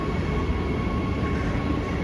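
A train in Switzerland rumbles along steadily, with a dense, continuous roar of wheels and carriage noise that stays even throughout.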